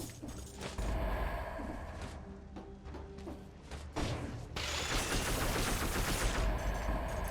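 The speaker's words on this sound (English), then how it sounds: "I just jump and I fire exploding eggs out of my butt" Explosive eggs fired in the video game Dead Cells burst in a rapid series of thumping, crackling blasts, with dense, loud explosions swelling near the end and no talk over them.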